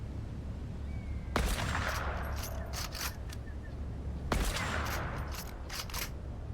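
Gunshots in the Fortnite video game, two sharp distant cracks a few seconds apart, each followed by a rolling echo over a steady background hum.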